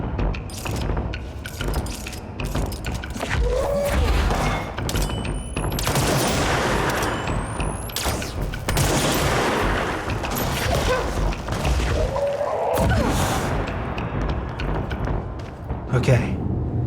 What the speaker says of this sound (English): I'm basically just gonna sit here and snipe at everything I can see